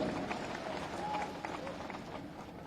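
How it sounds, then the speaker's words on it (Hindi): A crowd applauds at an election public meeting in Badamalhara, Chhatarpur district: a dense, sustained wash of clapping, fairly loud and steady throughout, with a voice talking over it. "जरा ताली बजे तो जोर से बजे भाई"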